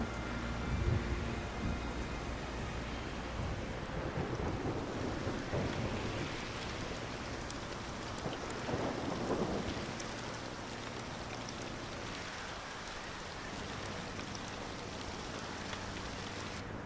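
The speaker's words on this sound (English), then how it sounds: "it's making sound when it storms. I just find rain to be a more relaxing sound to listen to." Steady rain and rumbling thunder in the video game Solarpunk, a continuous broadband downpour with low rolling swells through the middle, no voices.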